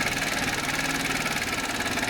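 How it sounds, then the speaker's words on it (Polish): A Volkswagen car engine idles with a steady rough rumble and a continuous mechanical knocking from a worn bearing underneath, close by. "Niestety silnik klepie niesamowicie"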